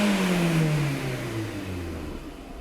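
A 2009 VW Polo that is burning oil, its engine revved once after the first start and warm-up, a loud close rev that falls away smoothly as the engine settles back toward idle.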